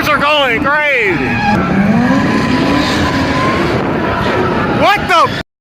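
Loud, close tire squeal from show cars doing burnouts and skids at a Houston warehouse car meet, sustained wavering screeches with revving engines, and people shouting in the crowd around them.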